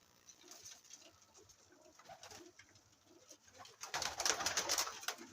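Teddy pigeons coo steadily in a home loft, soft low calls repeating under a light chorus of other birds, swelling louder and busier in the final seconds.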